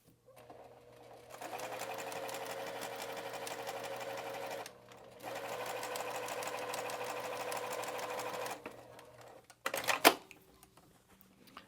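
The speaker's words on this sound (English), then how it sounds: "I am going to just stitch this line here and show you this is what happens if your thread tension is too loose." A sewing machine stitches a seam with too-loose thread tension, running in two steady whirring, rapidly clicking bursts of a few seconds each separated by a short pause, then stopping with a clunk, close and fairly quiet.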